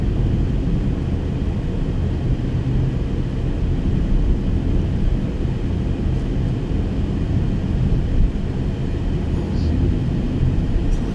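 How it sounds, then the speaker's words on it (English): A car interior in a traffic jam carries a steady low hum of air conditioning and idling engine, constant and even throughout, with no music playing. "Unless you guys enjoy the sounds of car interior"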